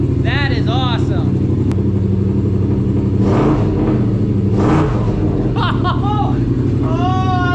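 A Yamaha Rmax 1000 parallel-twin side-by-side fitted with an RPM Performance muffler revs in several sharp, rising bursts over a deep idle rumble, close and loud, with someone talking over parts of it.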